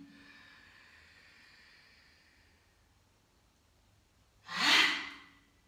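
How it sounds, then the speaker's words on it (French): A single deep inhalation during a breathing exercise, a short, close, breathy intake of air rising sharply after a few seconds of quiet, preceded by a faint hum. "Inspirez."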